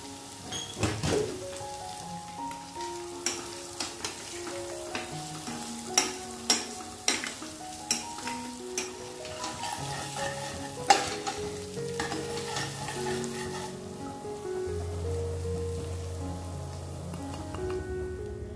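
Onion and ginger-garlic paste fry in a pan and hiss softly while a spoon stirs them, with scattered sharp scraping clinks against the pan and a steady low sizzle underneath. No one speaks.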